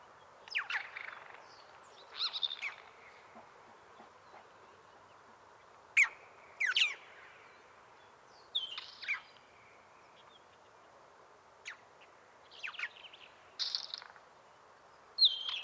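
Isabelline wheatear in Mongolia sings a scattered series of brief scratchy chirps and warbled notes separated by pauses, moderately close and fairly quiet against a faint steady background.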